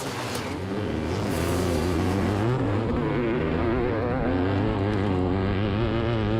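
Dirt bikes, including a twin-cylinder Triumph and CR500 two-strokes, racing uphill, a loud dense roar of several engines overlapping with rising and falling revs and gear changes, close and continuous with no speech.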